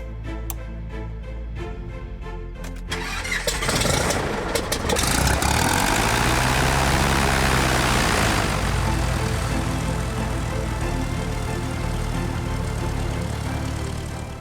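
A small aircraft engine starts up before a first solo flight, catching after a few soft ticks and settling into a loud, steady, low rumbling idle that runs without a break.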